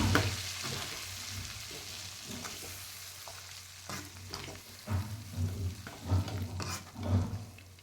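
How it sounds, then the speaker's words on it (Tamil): Lemon pickle being stirred in a pan, with a spoon scraping and clacking against the metal over a low steady sizzle; strokes come in irregular bursts that grow louder and busier toward the end, and no one speaks. "கொஞ்சம் நல்லா கிளறி விட்டுக்கலாம்"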